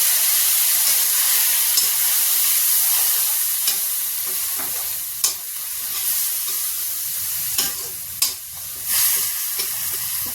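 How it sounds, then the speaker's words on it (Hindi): Spices and water sizzle and hiss in a frying pan for an aloo baingan chokha, with steady frying and occasional sharp scrapes and clicks from stirring. "अब थोड़ा सा पानी डाल के मसाले को मिक्स करें।"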